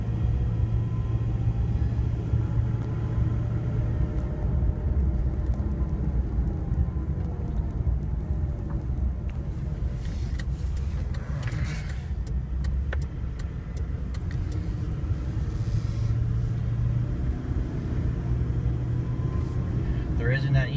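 A 2011 Ford Crown Victoria Police Interceptor drives over bumpy hard-packed snow, giving a steady low road rumble and engine drone from inside the cabin, with someone talking over it throughout.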